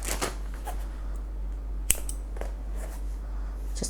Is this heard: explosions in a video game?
no